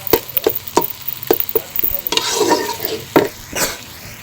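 Garlic sizzling steadily in a hot frying pan while a spoon scrapes and stirs it, giving repeated sharp clicks against the pan over a continuous frying hiss, close and fairly loud, with no talking.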